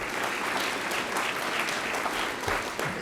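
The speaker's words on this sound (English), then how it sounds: "give them the credit, please, with one more round of applause" Audience at a city State of the City address applauding steadily, a dense close wash of clapping hands with no pauses throughout.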